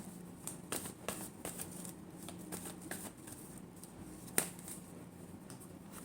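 Tarot cards shuffled during a reading, giving soft, close riffling and flicking with a few sharp snaps, quiet and steady, with no speech.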